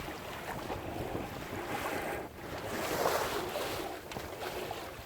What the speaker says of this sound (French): Écoutez le bruit de l'eau.